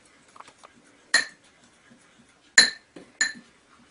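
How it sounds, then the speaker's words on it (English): Spoon stirring a paste of baking soda and liquid soap in a bowl, giving three sharp, ringing clinks spaced a second or so apart over a quiet background. "And we're just going to stir it."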